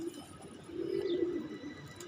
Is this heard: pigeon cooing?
yes